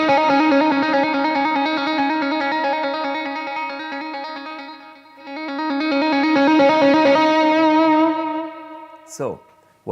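Bright, trebly electric guitar through an amp playing a rapid trill, sustained and fairly loud, ending with a short sliding squeal.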